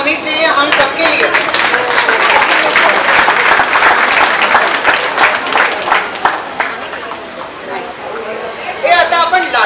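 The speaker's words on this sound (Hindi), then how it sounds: "और एक बार तालियां होनी चाहिए हम सबके लिए" An audience at a Mangalagauri Khel performance breaks into sustained, loud applause, dense clapping mixed with crowd chatter that fades slightly before a brief final swell.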